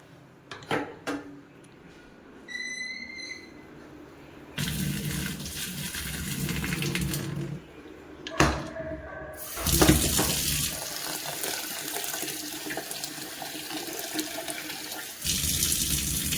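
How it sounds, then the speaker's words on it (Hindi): Tap water runs into a sink while rice is washed for cooking, with a few sharp knocks and splashes early on, then steady close rushing and splashing in long stretches, broken by brief pauses. "चावल निकाल के और इसको फिर से धो लूँगी एक बार"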